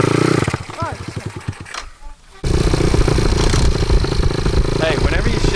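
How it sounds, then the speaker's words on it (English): A dirt bike engine revs with a rough, pulsing note, dips briefly during a downshift with possible gear grinding, then comes back up to a loud, steady drone close by, with voices mixed in. "whenever you shift down, kind of shift down a little faster because you keep grinding the gears"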